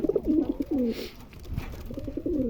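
Domestic pigeons, a mix of hens and cocks, coo in low repeated phrases, with a soft pause between two bouts, close by and alone.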